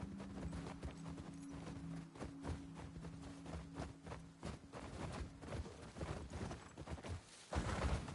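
Horse hooves clip-clop steadily in a video game, a continuous rhythmic patter of footfalls under a low background hum, with a brief gap before the steps pick up again.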